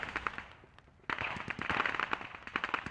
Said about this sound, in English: The Leopard cooks off.